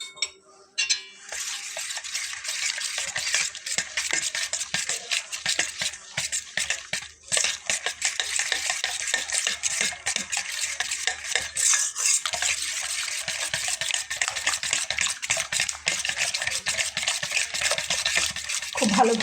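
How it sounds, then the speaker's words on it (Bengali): Egg is beaten into a batter with a spoon in a fast, continuous rhythm of wet slapping and scraping against the bowl, close and steady for the whole stretch, with no talking. "খুব ভালোভাবে এটাকে ফেটিয়ে নিতে হবে।"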